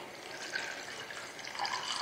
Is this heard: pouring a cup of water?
yes